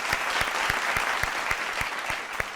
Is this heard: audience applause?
yes